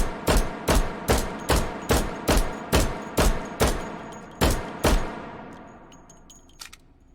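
A gun fires about a dozen close, loud single shots at a steady rhythm in Hot Dogs, Horseshoes and Hand Grenades. Faint clinks and a small metallic tap follow as the firing stops.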